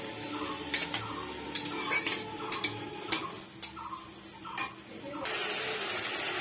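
Masala with potato and mango for a mourola fish curry being stirred and sautéed in a pan, with repeated sharp spatula clinks and scrapes against the metal over a soft sizzle, ending in a steadier hiss.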